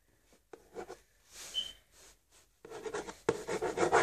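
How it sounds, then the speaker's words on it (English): Pen strokes scratching across a cardboard box as details are written on it, short rubbing bursts separated by pauses, close and fairly quiet, growing busier toward the end. "I'm gonna write her details on."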